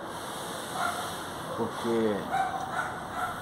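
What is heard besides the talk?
dogs barking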